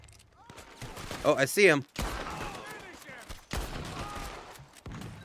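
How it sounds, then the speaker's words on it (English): Bolt-action rifle fire in the video game Red Dead Redemption 2: a loud, sharp crack, then another shot a couple of seconds later, while someone speaks briefly between them. "We're going with the bolt action."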